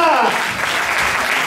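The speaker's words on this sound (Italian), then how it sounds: "un applauso a Roccia" Audience applause at a charity music event with a radio broadcast, a brief burst of clapping heard together with a voice.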